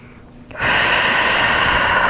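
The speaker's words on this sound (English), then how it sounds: "start to deepen your breath" Deep yoga breathing at home during a vinyasa flow, a steady close breath that swells after a quiet half second and holds as a broad, airy hiss through the rest, with no talking.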